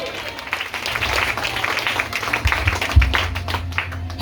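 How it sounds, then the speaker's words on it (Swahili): A church congregation claps during a Swahili-language service, with a steady mix of hand claps under a preacher's voice and some louder individual claps standing out near the middle. "piga makofi wewe"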